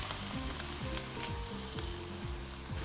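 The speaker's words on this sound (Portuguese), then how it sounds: "Agora então, vamos dourar a cebola." Onion browning in olive oil in a hot wok, a steady dense sizzle with scattered crackles and low rhythmic scraping from stirring, close and continuous with no voices.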